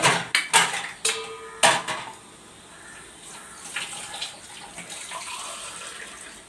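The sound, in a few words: water poured into pan of egg prawn curry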